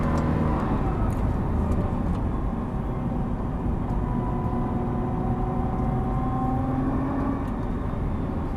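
A Nissan GT-R accelerates on a racetrack in third gear, its engine a steady loud roar with rising tonal whine carrying on throughout.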